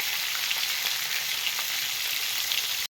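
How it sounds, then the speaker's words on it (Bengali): Fish heads fry in hot oil for muri ghonto, making a continuous dense close-up sizzle and hiss with faint pops before it cuts off abruptly. "ভালো করে লাল লাল করে ভেজে নিতে হবে মাছের মাথাগুলো"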